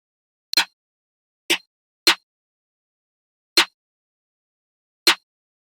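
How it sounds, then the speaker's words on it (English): Five short, crisp snare hits from a trap beat ring out one at a time with gaps of silence between, dry and punchy with a quick noisy decay. "Second thing is a snare, and it sounds like this."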